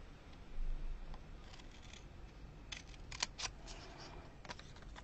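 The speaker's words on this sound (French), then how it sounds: "Donc je prends mes petits ciseaux." Small scissors snip through scrapbook paper for an album, giving a few quiet, crisp cuts in close succession against a faint room background.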